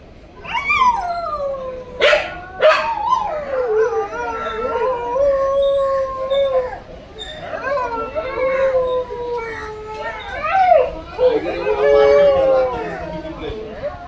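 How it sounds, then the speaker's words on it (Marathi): Dogs howling close by in long, wavering cries, with a few sharp barks and yips near the start. "आवाज घेत आहेत खाली कुत्री भुकतायत ना"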